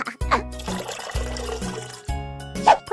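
Bath water pours into a tub in a baby-care video game, running in short splashing bursts that stop and start several times.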